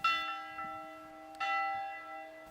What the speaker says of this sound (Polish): nie tylko wzywający na nabożeństwo dzwon umieszczony na ponad 30-metrowej wieży kościoła daje się usłyszeć okolicznym mieszkańcom